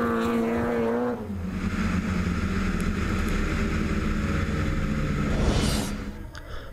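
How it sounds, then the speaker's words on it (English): A 550-horsepower BMW drift car battles at a British Drift Championship round at Lydden Hill, its engine roaring loud and continuous, swelling to a harsher, brighter howl near the end before easing off. "However, Mike is just going to extend that gap with that 550 horsepower from that BMW."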